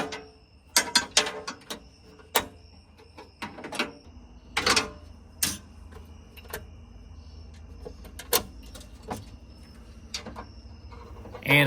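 Bolts being tightened on a tailgate table mounted on a Ford Bronco, heard as a series of short ratcheting clicks and metallic taps, close and irregular, with a faint background hum.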